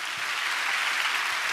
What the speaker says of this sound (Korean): 저희 가정과 죽음의 문턱에서 사투를 벌이다 온 제 동생에게 격려의 박수 부탁드리겠습니다